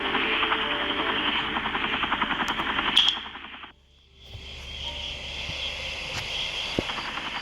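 Steady rotor buzz and engine drone from a Blackhawk helicopter flying in the video game Life After, loud and continuous, cutting out briefly near the middle before resuming at a lower, steady level.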